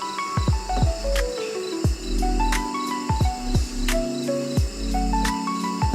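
Honeybees drone at an open hive nearby, a continuous low hum with sharp falling chirpy tones cutting in again and again.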